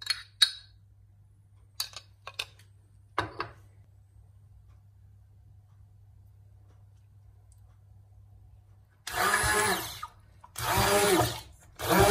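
A blender mixes cooled pudding with labneh cheese and vanilla for a banana tiramisu, running in two short loud bursts after a quiet stretch of faint kitchen ticks and clicks.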